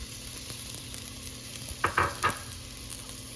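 Garlic fries in a pan with golden onions for Japanese curry, a low steady sizzle with a brief cluster of three stirring clicks near the middle.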